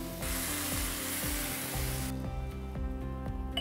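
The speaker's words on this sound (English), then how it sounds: "I'm gonna add just a little bit of the boiling liquid." Boiling lentil cooking liquid is poured into a hot pan, giving a loud, steady hiss of sizzling that drops off sharply to a quieter simmer partway through.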